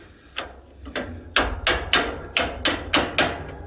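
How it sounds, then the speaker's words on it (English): Close, loud hammer blows drive a spring eye bush on an Ifor Williams trailer: a few spaced strikes, then a quicker run of about seven evenly timed metallic hits, each with a short ring. "Where's my magic hammer? That'd be perfect for this job."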